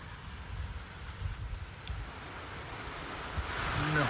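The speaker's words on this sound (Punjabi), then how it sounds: "ਤੇ ਲੋ ਬਈ ਮੀਂਹ ਪੈਣ ਲੱਗ ਗਿਆ" Rain starting to fall outdoors, a steady soft patter and hiss that thickens toward the end, with no voices over it.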